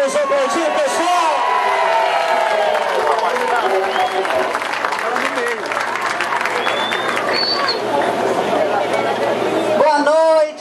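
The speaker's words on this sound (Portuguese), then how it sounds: "vamos aplaudir, pessoal!" A crowd applauds and cheers at the opening of a campaign committee, with steady clapping and scattered whoops filling the space continuously and loudly, along with some chatter, before it tapers off at the end.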